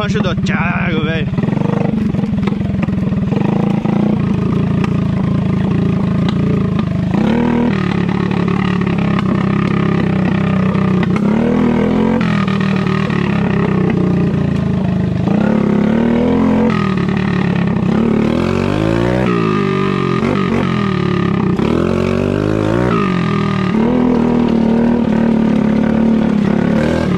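Mini Max motorcycle riding a dirt trail, its engine loud and close throughout, droning steadily with repeated revs and shifts in pitch as it climbs and accelerates.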